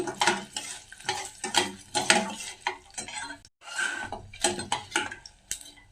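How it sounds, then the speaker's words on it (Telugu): Garlic and chillies frying in a pan, with a crackling sizzle broken up by repeated scraping and clinking of a spatula stirring, close and fairly loud. "ఇవన్నీ కూడా వేయించుకోవాలి"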